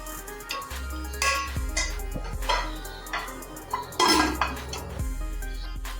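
Green beans being stirred in a metal cooking pot, with a series of close, irregular clinks and scrapes of a utensil against the pot and low background hum.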